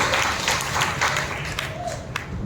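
A church congregation claps during a Sunday worship service, a dense, continuous patter of many hands lasting a couple of seconds, with voices mixed in underneath.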